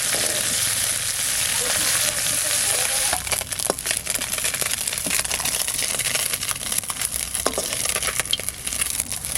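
Snakehead (shol) fish sizzling in hot oil in a clay pot, a constant dense frying hiss that turns busier with crackles and spatula scrapes as the pieces are turned.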